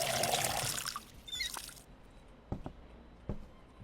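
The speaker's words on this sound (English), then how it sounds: "We're going to fill up the water for now." Water pours and trickles briefly while being filled up in the game Schedule 1, followed by a few soft knocks and clicks in a quiet room.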